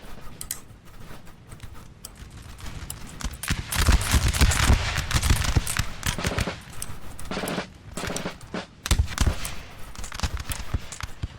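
Muskets fire in a large Napoleon Total War 3 land battle, ragged volleys of sharp cracks rolling in dense waves, swelling to heavy sustained firing then easing into scattered shots before flaring again.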